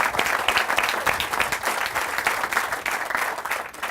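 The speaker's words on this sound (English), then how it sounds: "Let's give Jim a round of applause." Audience applause at an outdoor groundbreaking ceremony, with dense, steady clapping from a sizable crowd that stays loud and even throughout, and no voices standing out.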